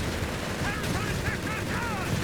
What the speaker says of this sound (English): Covering the mortars there with some nasty fire